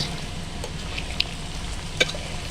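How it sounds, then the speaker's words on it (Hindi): Fried chicken and green chillies sizzle steadily in a pan as they are stirred, with a few faint clicks of the utensil against the metal. "थोड़ी देर के लिए इसको हम हिलाएंगे, तकरीबन 10 से 20 सेकंड तक बस"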